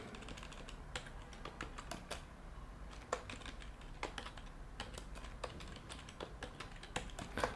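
Steady typing on a computer keyboard while working in the vim text editor, a dense run of quick key clicks with a few sharper accented strokes, close and alone with no talk.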